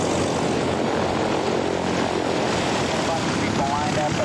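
Small propeller plane flying over the Oklahoma plains, a steady loud droning engine hum that stays close and constant throughout.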